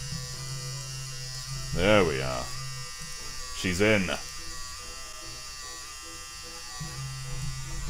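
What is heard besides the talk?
Game Boy printer motor feeding paper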